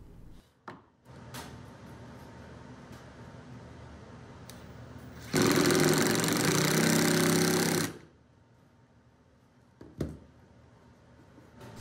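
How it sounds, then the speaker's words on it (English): A 5/16 drill bit bores holes for threaded inserts on a DIY router edge guide, a loud steady whirring burst of about two and a half seconds between scattered quieter knocks and clicks. "And then I'm drilling out the rest of it with just a 5/16 bit"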